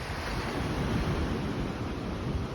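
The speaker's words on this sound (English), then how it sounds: "can you hear the waves? They're so wonderful." Ocean waves wash against the harbor seawall in Veracruz, a loud, steady roar of surf mixed with heavy wind buffeting close to the microphone.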